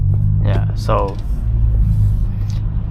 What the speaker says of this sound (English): you can hear some tunnel shots.